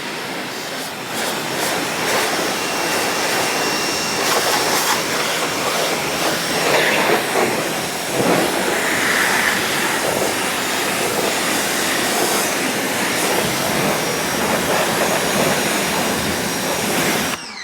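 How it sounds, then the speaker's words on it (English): Water rinses soap off a car in a loud, continuous rushing spray that runs unbroken from start to finish. "we are to the rinse off stage"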